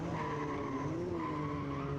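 Race car engines drone steadily at a distance behind the safety car at Gelleråsen as drivers warm up their tires, with a faint tire squeal blended into the continuous roar.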